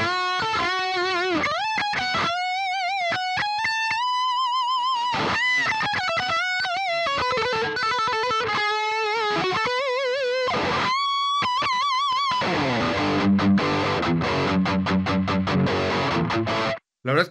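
Electric guitar played through a Boss ME-90 multi-effects unit set for a distorted lead tone: sustained bent and vibrato notes with fast runs, then dense chugging chords near the end, loud and continuous.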